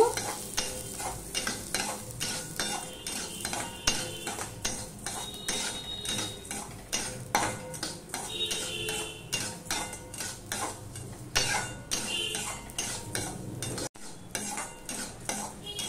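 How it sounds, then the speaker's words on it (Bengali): Rice dry-roasting in a pan for a raw banana dish, with a continuous crackling sizzle and rapid repeated spoon scrapes and clinks against the pan, close and busy throughout. "এবার চালটা আমি ভেজে নেব।"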